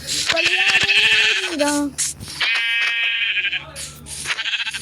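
Sheep bleat repeatedly in the Minecraft video game, long wavering calls up close, loud and overlapping with other game sounds.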